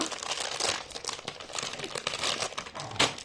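A chocolate wrapper crinkles and crackles close by as it is torn open, with irregular bursts of rustling and a sharper crunch near the end.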